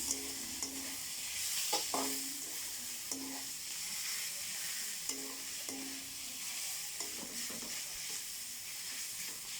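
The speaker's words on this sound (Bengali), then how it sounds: "পেঁয়াজ রসুন একটু ভালো করে লাল লাল করে একটু ভাজতে হবে, যাতে না পুড়ে যায়।" Onion and garlic frying in a pan give off a steady soft sizzle, with intermittent spatula scrapes and clinks as the mix is stirred at a regular pace.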